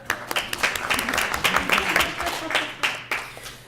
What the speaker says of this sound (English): So this should be applauded.